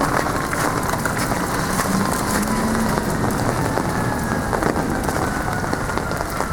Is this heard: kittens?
no